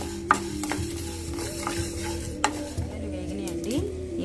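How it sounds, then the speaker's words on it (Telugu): Whole spices (cloves, cardamom, cumin and mustard seeds) toasting in a pan over low heat while being stirred, a soft crackle punctuated by a few sharp clinks of spoon against metal. "ఇవన్నీ కూడా సిమ్లో పెట్టుకొని జాగ్రత్తగా వేయించుకోవాలండి"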